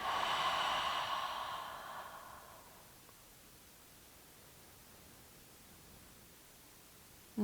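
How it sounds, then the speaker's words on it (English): Deep, slow breathing during a hatha yoga practice, a long airy exhale filling the first couple of seconds, then fading into quiet room hiss with no talk. "Breathing, breathing, breathing."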